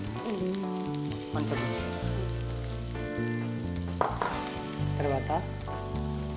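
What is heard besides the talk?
onion, ginger garlic paste and green chilli frying with methi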